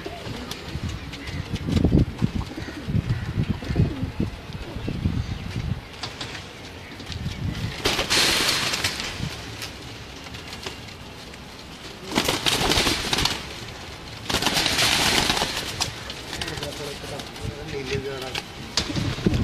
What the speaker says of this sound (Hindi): ये जी उस्ताद जबार जारा साहब के आपको कमगर कबूतर, नीले कमगर कबूतर हैं